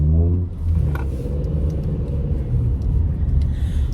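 Passing cars on a road give a loud, close rumble that swells as one vehicle goes by, then settles into a steady roar of traffic noise with no talking.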